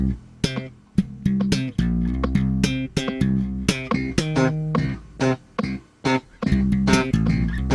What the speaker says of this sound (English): lift your fingers to deaden the note right away to give you a very short staccato sound